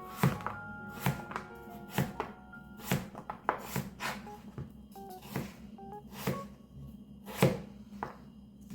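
Knife chopping potatoes on a cutting board in a home kitchen, a series of sharp, distinct thunks at an uneven, unhurried pace, close and clear with no talk.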